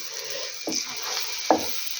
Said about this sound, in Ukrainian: Трошки огонь зменшу, хай смажуться.